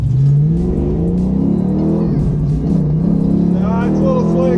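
A Foxbody Ford Mustang launches off the line on a slick surface at about three-quarter throttle, its engine revving loudly and climbing in pitch through the gears while a person talks over it.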